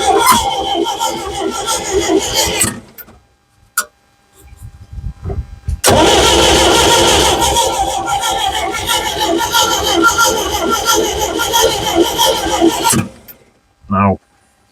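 An old Valmet forklift engine cranking on a booster, loud and close, in two long bursts of steady churning separated by a short lull, ending in a brief squeak.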